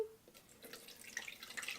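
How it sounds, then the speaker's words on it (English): Rice water trickles and drips through a small strainer into a container, a quiet, steady liquid pour with scattered drips and no voices. "I'm now going to strain it in this little contraption here"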